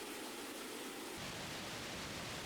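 Continuous broadband roar of Iguazu Falls in Argentina, an 80-metre waterfall thick with spray, steady and unbroken, growing fuller and heavier partway through.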